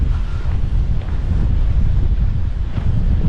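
Strong wind buffets the microphone at the Salinas tower on Las Salinas Beach, Ibiza, a constant low rumble and roar, loud and unbroken, with no voices.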